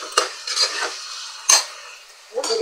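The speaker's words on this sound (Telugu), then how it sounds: "దాంట్లో వేసాను కదా, కలిపాను కదా చికెన్లో" Salt stirred into country chicken in a pot, spoon scraping in a few quick strokes, close up with no talk.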